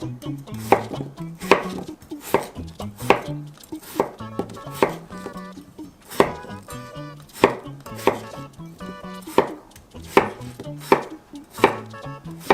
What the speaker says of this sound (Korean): 감자 400g 미리 다 깎아놨어요. 이렇게 썰었어요.